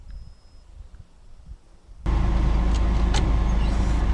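A car pulls off to move to a new fishing spot, driving slowly over grass; after a quiet stretch the engine and rolling noise come in abruptly and stay loud and steady to the end.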